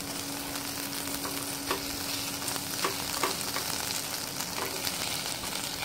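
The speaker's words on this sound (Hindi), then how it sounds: "ये राजमा को हम थोड़ा थोड़ा मैश करते हुए मिक्स कर लेंगे।" Kidney beans are mashed and stirred in a pan, soft scraping taps and pressing sounds at an uneven rhythm over a low, steady sizzle.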